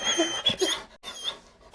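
A dog gives a quick run of high, squeaky whines and yelps, close and fairly loud, broken by a brief pause near the middle.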